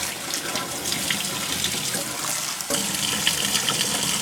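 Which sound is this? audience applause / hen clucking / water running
water running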